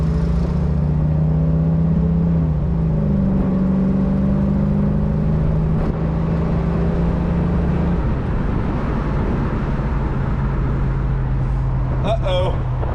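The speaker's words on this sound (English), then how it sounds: "We had a lot of wheel spin, guys." Ford 5.0 Foxbody Mustang launching hard from a stop toward 60 mph with wheel spin, engine note climbing through gears loud and close, steady road roar underneath, voices talking over it.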